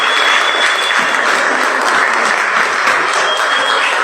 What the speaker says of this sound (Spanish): Entonces démosle un aplauso a Tato.